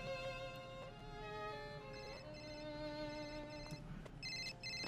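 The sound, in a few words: cell phone ringing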